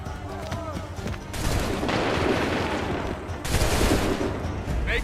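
Musket volley in the Assassin's Creed 3 video game: crackling bursts of gunfire roll out in two waves amid battlefield noise, with shouted commands between them.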